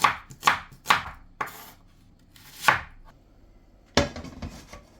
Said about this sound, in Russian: Берем 2 средних луковицы и нарезаем небольшими кубиками.